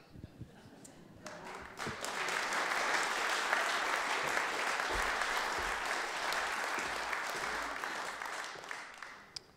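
Applause from a congregation at a celebration of life service, a warm sustained round of clapping that swells in and holds for several seconds before fading, with some voices mixed in.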